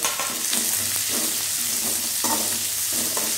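Onions, curry leaves, green chilli and crushed garlic sauté in hot oil for potato masala, a steady close sizzle broken by repeated scraping stirs of a spoon against the pan, with no voices.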